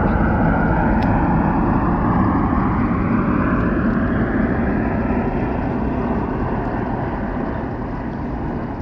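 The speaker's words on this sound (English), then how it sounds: "there's a plane flying over" An airplane passes overhead, a broad, steady roar that slowly fades over several seconds, with no one speaking.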